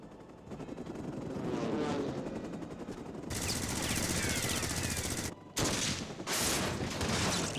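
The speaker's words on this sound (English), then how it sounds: "Oh, nice shooting." Sustained rapid gunfire in Final Fantasy XIV: dense automatic bursts rattle continuously with sharp shots layered over a rumbling background, fairly faint overall, with brief dropouts near the end.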